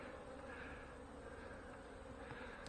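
Honey bees in a hive being inspected near fireweed give a faint, steady, continuous buzz with no pauses or talking.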